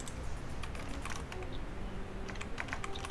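Quiet typing on a computer keyboard during a Super Metroid duel stream, a scattered run of light key clicks over a soft steady background hum.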